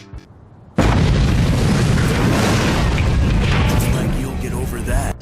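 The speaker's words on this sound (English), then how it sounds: "allowing multiple dust globbers to basically turn an attack wave into a constant explosion" Dust Globber blasts in Plants vs Zombies erupt suddenly after a quiet start, then run into a dense, continuous roar of booming explosions that lasts several seconds with no letup, under some talk.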